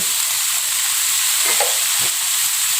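Curry and chili powder frying in hot oil for Johor laksa, giving a loud steady sizzle and hiss, with a couple of soft scraping stirs of a utensil in the pan, close up and with no talking.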